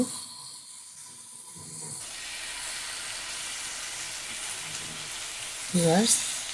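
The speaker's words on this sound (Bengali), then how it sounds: "ম্যারিনেট করা টিকার পিসগুলো দিয়ে দিচ্ছি" Marinated chicken tikka pieces hit a hot, lightly oiled pan on a gas stove and set off a steady, faint hiss of sizzling that carries on, with a short brighter clatter near the end.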